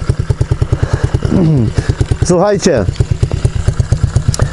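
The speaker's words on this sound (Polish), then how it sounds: "Ale jak ładnie wydech pracuje" A motorcycle's exhaust runs close by in a steady, pulsing idle with a brief rising rev in the middle, and people talk over it throughout.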